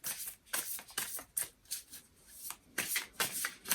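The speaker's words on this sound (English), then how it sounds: "He wants me to keep on shuffling." Tarot cards are shuffled close up in quick repeated riffles and flicks, a papery rhythmic rustle with short pauses between bursts.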